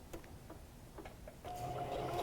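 A sewing machine stitching cotton fabric mask pieces, faint ticking clicks at first, then a quiet continuous mechanical whir starting midway.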